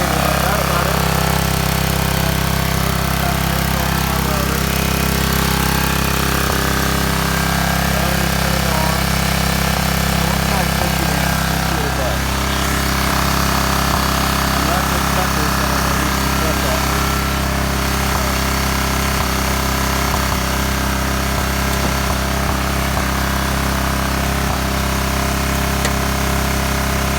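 An old abandoned 2000 watt generator engine runs steadily and loudly close by, a constant droning hum with a rattling mechanical texture that holds for the whole stretch.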